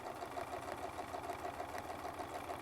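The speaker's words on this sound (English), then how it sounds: "And then just scoot up and sew this whole thing." Domestic sewing machine stitching with a Westalee Spin E Fex ruler, a steady rapid mechanical chatter with fast, even rhythm, fairly quiet and close.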